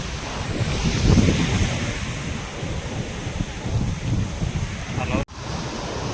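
Sea waves wash continuously onto the seashore, a steady broadband surf roar mixed with gusting wind buffeting the microphone, with boats offshore and a brief dropout near the end.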